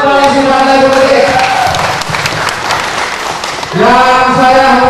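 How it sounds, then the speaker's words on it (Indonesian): A campaign crowd in a futsal hall applauds and cheers for a political party coalition, loud clapping mixed with voices, with amplified speech before and after. "tepuk tangan untuk koalisi partai politik."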